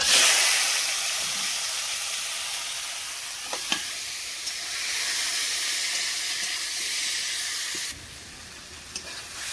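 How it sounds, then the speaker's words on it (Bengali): Spices, onion and garlic frying in a hot pan for a village-style chicken curry, a loud continuous sizzle and hiss up close with occasional scrapes of stirring. "তো দেখো আমি কিন্তু মশলাগুলো এখন দিয়ে দেবো।"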